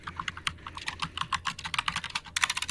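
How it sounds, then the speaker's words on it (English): Loud typing on a computer keyboard, a rapid, uneven run of sharp clicking keystrokes close to the microphone that grows denser and louder toward the end. "Got some loud typing going on."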